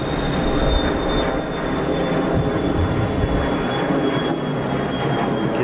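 Aircraft climbing away after takeoff at Geneva Airport: a loud, steady engine roar with a thin high whine running throughout, no voices.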